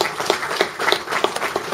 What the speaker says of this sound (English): Give a round of applause to Jimmy Hamilton, please